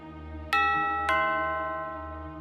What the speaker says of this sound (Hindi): बाहर की घंटी बजी।